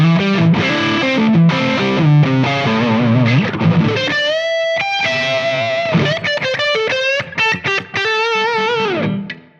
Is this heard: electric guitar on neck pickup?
yes